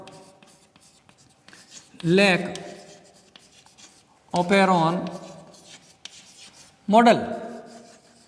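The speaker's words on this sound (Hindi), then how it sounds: "तो यहाँ पे मैं एक बार लिख देता हूँ टाइटल" Marker or chalk writing on a classroom board during a biology lecture, three distinct scratchy bursts of strokes separated by pauses, close and fairly loud, with someone speaking Hindi around them.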